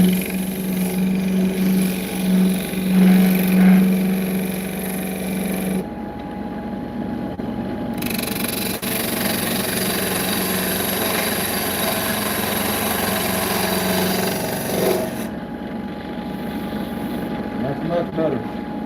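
Wood on a lathe is smoothed on its outside with a mini skew held as a scraper, making a loud, steady, close-up machine drone with a rough scraping edge that keeps going without a break.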